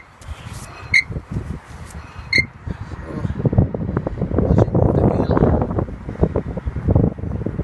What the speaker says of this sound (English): It's a beautiful windy day, it's not raining